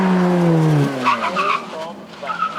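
Ferrari F430 with its 4.3 litre V8 on track at a supercar weekend: an engine note sweeps down through the gears, then tires squeal and skid as the car passes, with voices over the racket.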